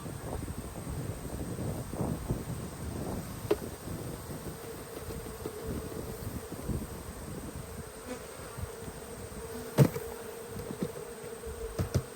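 Honeybees buzz around an opened hive as a frame is shaken, a soft, dense droning hum near the microphone with a few sharp knocks and light wind noise.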